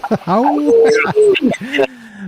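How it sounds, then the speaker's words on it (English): A short run of dog howls, rising and falling yips and wavering cries, close and fairly loud with brief gaps between them. "We got some howls."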